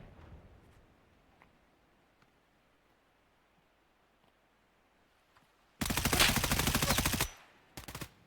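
Automatic gunfire in an esports video game match bursts loudly after near silence: one sustained rapid burst of about a second and a half, then a shorter burst moments later, with faint game sounds before.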